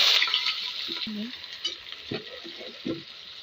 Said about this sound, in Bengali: এখন এটা একটু ভালো করে ভেজে নেব